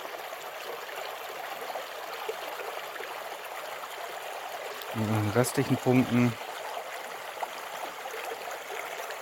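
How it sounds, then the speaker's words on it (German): A small winter stream flows beneath ice plates at minus sixteen degrees, a soft, continuous trickling rush heard throughout while someone speaks briefly in the middle. "fließt noch ein bisschen Wasser."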